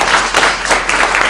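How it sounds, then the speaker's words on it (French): An audience at a round-table panel claps together, a dense continuous burst of applause with no voices over it. "On peut les applaudir"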